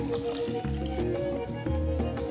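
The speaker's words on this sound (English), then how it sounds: "Go ahead and pour all of that in there." Chicken broth poured into a cooking pot, a continuous gurgling splash and trickle that rises slightly in fullness as the liquid fills, close and steady.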